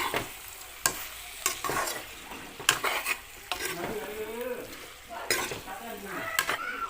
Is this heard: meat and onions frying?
yes